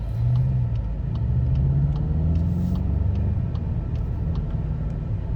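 A Volkswagen Golf GTI on a test drive around Glenmarie, its engine a steady low rumble with a faint rise and fall, heard from inside the car alone throughout.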